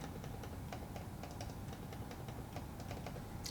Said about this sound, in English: Here's what the mouse sounds like when you're clicking.